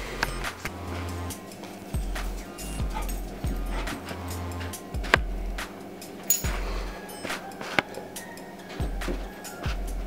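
Two Labradors bark in short, repeated bursts and whimper between them, fairly close, over a steady background hum.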